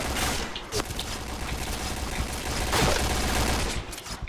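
Rapid automatic gunfire from the Point Blank online shooter game crackles nonstop, dense and loud, with sharper bursts around the start and near the three-second mark.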